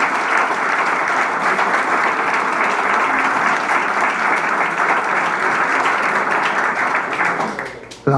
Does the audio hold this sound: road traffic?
no